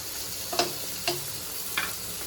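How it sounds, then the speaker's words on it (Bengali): Pieces of fat dropped into a hot pan for frying, giving a steady sizzle with three short clinks at even spacing and no talk. "এর মধ্যে এবার আমি চর্বিটা দিয়ে দেবো"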